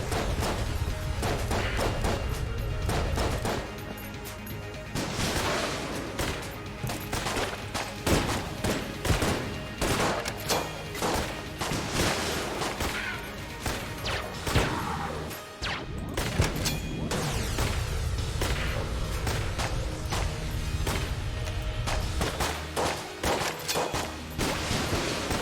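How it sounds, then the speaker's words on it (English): Rockets fire over and over in the video game Enter the Gungeon: a continuous, loud barrage of blasts, crashes and whooshes lasting throughout, with hardly any pause. "Stop shooting rockets at me"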